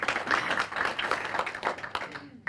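Audience applause after a panel discussion on online choice architecture, a dense, steady patter of many hands clapping at moderate level for a couple of seconds, thinning out and stopping at the end.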